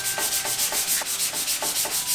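Sanding body filler on a Honda CX 500 motorbike part, a steady abrasive rubbing in close repeated strokes, roughly four to five per second, loud and continuous with no talking.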